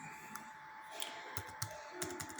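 Keys clack on a computer keyboard in a short, uneven run of taps as a search is typed, close but quiet over a faint steady hum.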